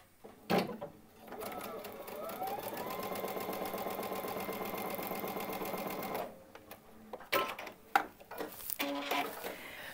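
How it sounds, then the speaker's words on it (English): A sewing machine stitches batik fabric strips together with a 1/4 inch seam, running steadily for several seconds at close range, then stops, followed by fabric handling and short bursts of talk. "you're just going to sew it straight through"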